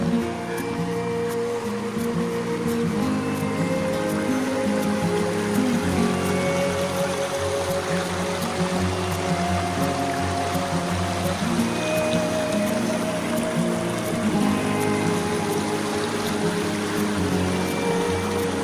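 A forest stream rushes beneath a trail bridge, a steady broadband wash of flowing water heard up close and continuous for the whole stretch, with no one speaking.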